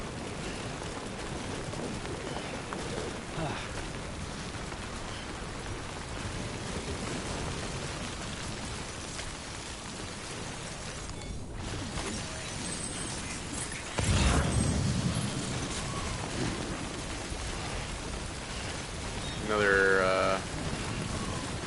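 Timefall rain in the Death Stranding video game, a steady hiss of rainfall on surfaces throughout, with a sudden louder rumbling swell midway and a brief tonal burst near the end; a voice speaks briefly.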